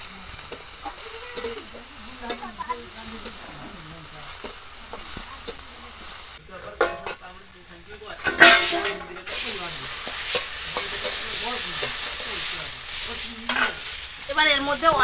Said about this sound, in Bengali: এবার এটা ঢাকা দিয়ে দিয়ে ভাজবো